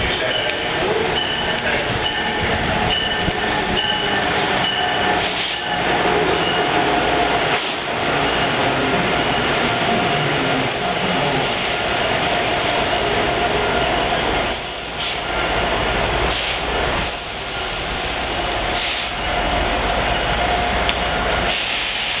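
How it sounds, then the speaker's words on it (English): An Amtrak train and an Acela train pass each other at Route 128 station, a sustained loud rumble and clatter of rolling cars that swells and eases over twenty seconds, with voices faintly underneath. "Sweet, Amtrak and Acela meet."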